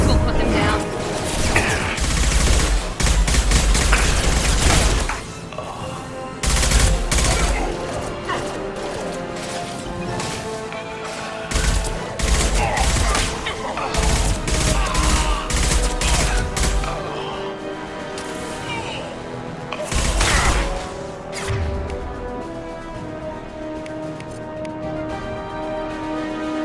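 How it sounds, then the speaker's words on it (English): Dense game gunfire and impacts in Mass Effect 2 combat, loud and sustained bursts with crashes and mechanical clatter layered under a busy battle soundtrack, with voices talking in places. "Firing now."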